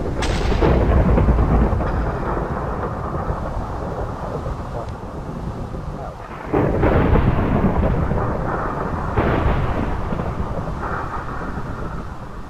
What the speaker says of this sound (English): That's a lot of thunder sounding about.